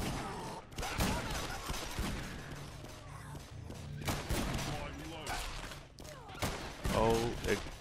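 Gunfire against endless zombie hordes in Garry's Mod comes as a steady stream of loud shots and thumps, mixed with chaotic game noise and whooshes. Voices talk over the action throughout.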